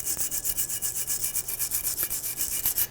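A bristle brush scrubs rust and debris off a rear brake caliper bracket on a 1999-2004 Jeep Grand Cherokee, in rapid, steady back-and-forth strokes, close and fairly loud with no talk.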